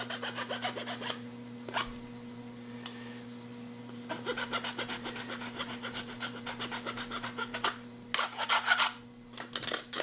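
Hand-filing a burr off a small wooden part, heard as a series of close, raspy strokes in uneven bursts with short pauses between them, against a low steady hum.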